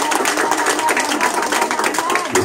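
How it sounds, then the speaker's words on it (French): Rhythmic clapping from a worship gathering, many hands beating steadily along with loud congregational singing in French that stays on top throughout. "Applaudis le ciel, applaudis."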